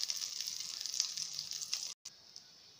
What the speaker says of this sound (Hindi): अब इसके अंदर मैं फ्राई करूंगी।